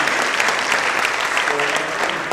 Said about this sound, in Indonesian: sekali lagi tepuk tangan untuk Bapak Sindir Basuki Cahaya Purnama